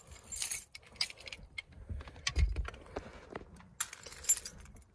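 A ring of keys jangles and clinks near an 1986 Chevy box car during a search for the right key, coming in several short bursts with quiet handling noise and small knocks between them.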